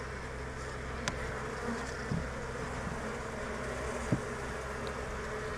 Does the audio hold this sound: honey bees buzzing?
yes